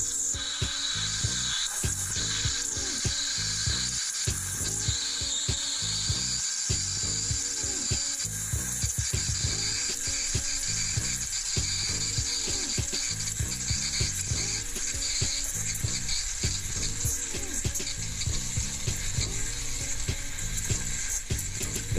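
A DeLonghi espresso machine's steam wand frothing milk in a jug, giving a continuous, close, loud hiss with a rough, chattering texture and no talking.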